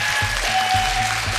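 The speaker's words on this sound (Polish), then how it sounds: "Myślę, że za taką wytrwałość należą się brawa." Applause from a studio audience on a television quiz show, a dense, steady patter of clapping that fills the whole moment at close range.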